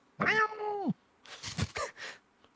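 A cat gives one drawn-out, clear meow close by, followed by a few brief, softer rustling or shuffling sounds.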